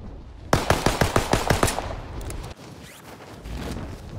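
A loud, rapid burst of automatic gunfire in Call of Duty: Warzone Pacific, about nine sharp shots in quick rhythm, followed by fainter distant shots and ambient noise.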